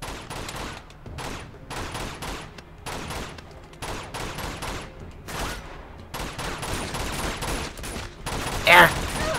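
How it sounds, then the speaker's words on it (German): Gunfire in the video game Uncharted 2: Among Thieves, repeated bursts of shots fired in a stuttering rhythm, loud and close, with a sharper crack near the end and someone talking over parts of it. "Ich schieße einfach weiter."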